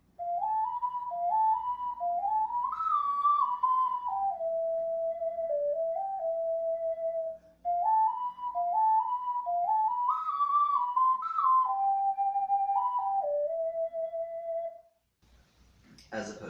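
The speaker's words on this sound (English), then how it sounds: "let's have a look at what Saria's song would sound like if it were legato." Saria's Song from The Legend of Zelda played legato as a smooth, connected whistle-like synth melody, notes gliding into one another in two repeated phrases, steady and clear with no talk, ending in a brief noise burst.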